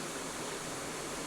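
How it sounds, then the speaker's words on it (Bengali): Water pouring steadily onto garden plants, a continuous close splashing hiss that fills the short moment without any break, with no voices heard. "আমরা গাছে জল দিচ্ছি তো।"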